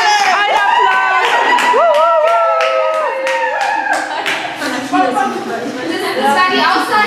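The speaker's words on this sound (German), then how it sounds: "Ein Applaus! Ein Applaus!" Crowd in Barcelona clapping and cheering, a dense run of handclaps with whoops, voices talking loudly over the applause throughout.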